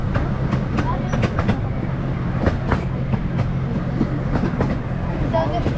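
A miniature zoo train rolls along the rails with a constant low rumble and regular clicking beats from the wheels, heard from inside the carriage.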